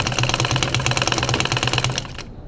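A sewing machine stitches piping onto a kameez, a loud, close, rapid mechanical chatter that runs steadily before slowing and stopping at the end, with no voices.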